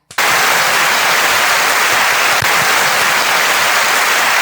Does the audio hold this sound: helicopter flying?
no